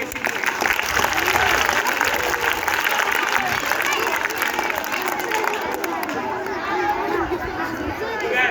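Schoolchildren at a school science-awareness programme burst into sustained applause, a dense, loud patter of clapping mixed with crowd chatter and voices throughout.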